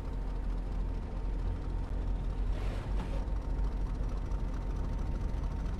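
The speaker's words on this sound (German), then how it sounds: "Ich würde nämlich den Motor hören." A British Rail Class 50 diesel locomotive, built 1967 to 1968, runs under power on the Riviera Line, a steady low engine drone heard through open windows with a brief swell of noise midway.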